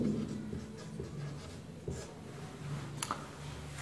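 Chalk or a marker scratches and taps on a board, soft and somewhat distant, with a few brief clicks, beneath a faint room hum and a teacher's voice.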